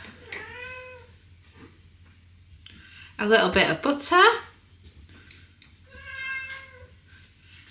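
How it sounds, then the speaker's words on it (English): A pet cat meows repeatedly in a home kitchen, drawn-out cries near the mic with a louder, rougher yowl in the middle, while a person talks over it during cooking. "Excuse my noisy cat,"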